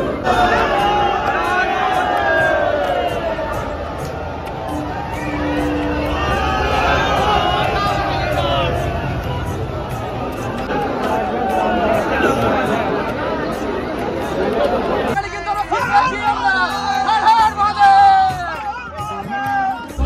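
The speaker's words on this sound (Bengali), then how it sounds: "প্রচণ্ড ভিড় কিন্তু লাগলো" Dense crowd chatter and babble fill Howrah railway station, a loud continuous hubbub of many voices close around, with sharper individual voices and clatter rising near the end.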